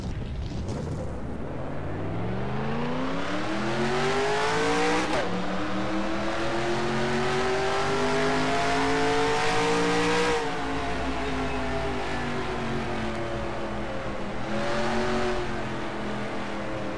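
Race car engines in NASCAR Racing 2003 revving and accelerating, a loud continuous roar whose pitch climbs repeatedly with gear shifts, with no one talking.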